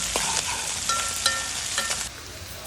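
A ladle stirs curry frying in oil in a pan, a sizzling hiss broken by several scraping strokes across about three seconds, close and fairly loud.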